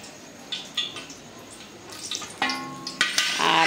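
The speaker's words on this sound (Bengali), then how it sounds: "তেল গরম হয়ে গেছে, আর আমি তেলের মধ্যে দিয়ে দেবো শুকনো লঙ্কা" Dried red chilies hit hot oil in a wok and sizzle in short bursts that grow louder and denser toward the end, with faint clinks before the frying takes hold.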